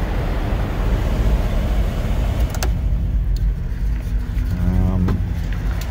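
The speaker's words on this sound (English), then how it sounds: "Windows go up and down." An electric window motor in a 1982 Chevrolet Blazer whines as the glass moves, over a steady engine idle inside the vehicle. A short thump is heard midway.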